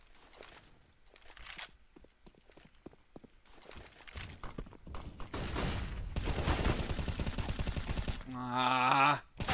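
Counter-Strike: Global Offensive firefight, with scattered clicks and footsteps building into sustained rapid gunfire bursts, ending in a loud tonal effect.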